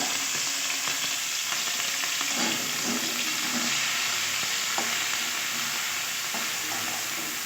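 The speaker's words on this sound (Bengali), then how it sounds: "এটাও খুব সুন্দর করে ভেজে গন্ধ যতক্ষণ না বেরোচ্ছে ভালো করে ভেজে নেব" Ginger and green chili frying in hot oil with five-spice for vegetable chops: a dense, even sizzle holding steady throughout, with occasional light spatula scrapes close by.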